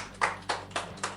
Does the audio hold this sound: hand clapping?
yes